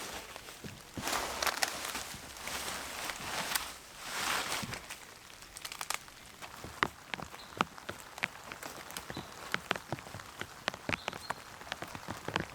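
Rain falls through a forest, patters and drips striking leaves and surfaces in an irregular, close pattern, with occasional heavier drops and faint rustling movement nearby; no one speaks.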